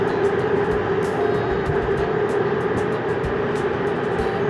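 A steady mechanical rumble and hum of a BTS Skytrain at an elevated Silom Line station in Bangkok, with faint periodic ticking on top.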